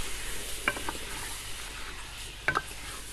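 Salted chicken karahi being stirred in a pan: a steady background sizzle with two brief scraping stirs of the spoon, one early and a double one near the end, fairly close and moderately loud.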